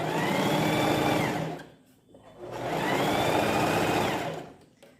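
Sewing machine running in two long bursts while stitching a seam on a skirt with lastex elastic thread, with a short pause between them; a steady mechanical whir close by, no talking.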